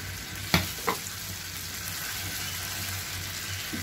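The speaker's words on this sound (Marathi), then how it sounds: "आपली ही कलेजी फ्राय झालेली आहे।" Liver fry sizzling in a pan, a soft steady hiss from close by, broken early by two sharp knocks of the spoon against the pan while it is stirred.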